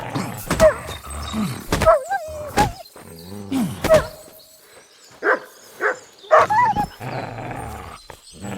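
A dog in the medieval video game Kingdom Come: Deliverance 2 barks and yips in several short, sharp bursts, fairly close, with thumps and brief game sounds between them.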